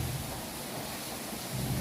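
Heavy rain roars outside a house with thunder rumbling low beneath it, a dense continuous wash of sound at fairly low level without any speech.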